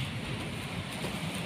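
Steady rain falls at night in a flooded street, a soft continuous hiss with faint low rumbling beneath, quiet and unbroken throughout.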